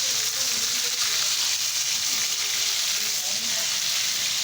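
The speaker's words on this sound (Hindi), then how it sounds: "मिर्चें हमारी फ्राई हो रही हैं।" Steady, loud sizzling and crackling of chili peppers frying in hot oil with ground raw mango added, continuous and close, with no voices.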